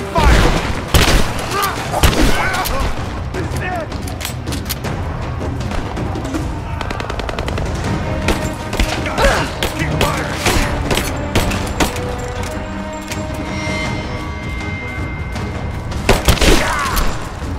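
Heavy gunfire in the action game Rise of the Tomb Raider, sustained automatic bursts and booming impacts filling a loud, busy battle mix, with a sharp cluster of shots near the end and voices mixed in.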